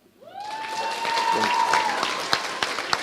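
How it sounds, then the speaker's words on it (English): A crowd breaks into applause at a high school prizegiving, the clapping swelling quickly and holding steady, with a thin whistling tone rising above it at first. "Just a big round of applause."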